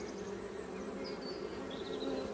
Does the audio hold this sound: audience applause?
no